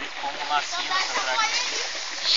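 A small child kicks their feet in swimming water, making quick, uneven splashes and sloshes at close range while a voice talks over them.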